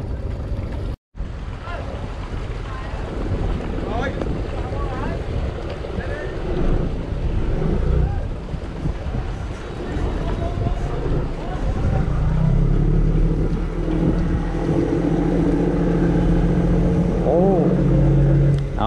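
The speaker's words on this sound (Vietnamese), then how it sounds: "Máy lớn đúng là lên ga đúng là thấy nó đã." The large engine of a Vietnamese trawler fishing boat revs loud and close with a steady low rumble, joined by wind buffeting the microphone, and throttle surges rise near the end.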